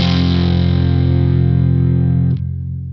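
An electric guitar through a Crazy Tube Circuits Crossfire pedal in low headroom mode rings out as a dense, distorted sustained chord that decays slowly before being choked off near the end.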